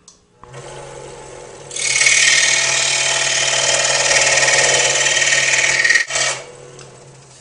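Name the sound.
cutting thin strip from 1/8-inch piece of wood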